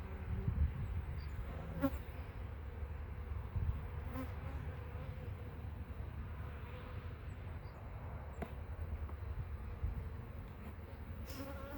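Dense, steady buzzing of many honeybees close by during a hive inspection, a low droning hum with occasional sharper clicks and knocks.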